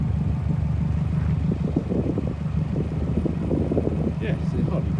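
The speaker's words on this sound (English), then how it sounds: "Let's just start it up just so you could hear it." A Subaru Impreza Metro 6R4 replica's engine runs close by, a steady low rumble with a busy, uneven burble on top, continuous for about five seconds.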